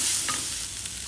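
Ginger garlic paste frying with onions in a pan for Hyderabadi kheema, a loud, close, continuous sizzle with a couple of soft stirring scrapes.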